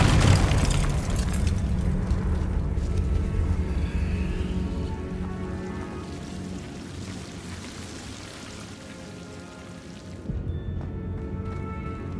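A Confringo fire spell explosion in Hogwarts Legacy: a loud boom at the start followed by a long rumbling, crackling decay that fades away, with a fresh burst of rumble near the end.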